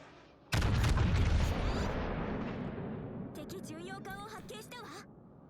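A naval gun salvo in a video game, aimed at a Gearing destroyer, fires with one sudden loud boom that rumbles and fades over several seconds before a voice comes in over the tail.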